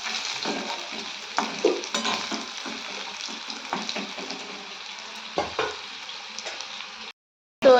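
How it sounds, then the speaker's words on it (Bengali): Potatoes fry in a pan for a fish and potato curry, a steady close sizzle broken by stirring scrapes and light knocks against the pan, then a short silence. "তো আলুগুলোকে ভেজে নেব।"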